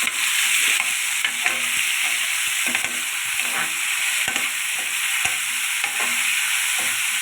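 Tomatoes frying in a pan for a ridge gourd peel and tomato chutney, a loud continuous sizzle broken by repeated scraping stirs of a spoon, with no talking.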